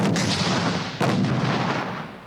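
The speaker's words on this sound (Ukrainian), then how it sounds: "Активно у боях використовують українські військові і РПГ 7" RPG-7 grenade launcher fired by Ukrainian soldiers during small-arms training: a sharp, loud blast near the 1-second mark over a sustained roaring rumble that fades out gradually, with no speech.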